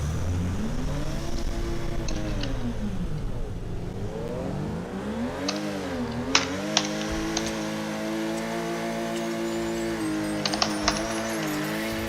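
A car engine in a racing video game revs up and down through repeated gear changes, a smooth rising and falling drone with occasional clicks of keys or controls.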